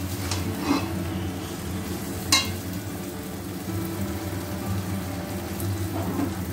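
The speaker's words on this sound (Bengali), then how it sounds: "এখানে গরম জল করে নিয়েছি, 2 কাপ পরিমাণ জল দিয়ে দেব" Hot water, about two cups, poured into a pan of potol pasinda curry, a steady sizzling and bubbling wash with a couple of brief splashy spikes, no voices.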